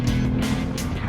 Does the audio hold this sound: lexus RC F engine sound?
yes